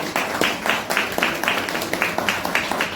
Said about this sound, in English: Can we please have a round of applause for him so much?